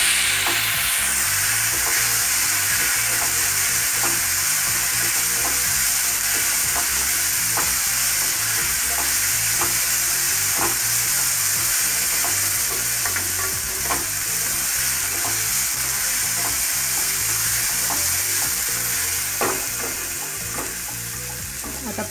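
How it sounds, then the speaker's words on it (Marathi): Mung dal frying in a pan for a spinach stir-fry, a loud continuous sizzle with steady crackle and occasional stirring clinks, close and unbroken throughout. "मुगाची डाळ चांगली फ्राय करून घ्यायची"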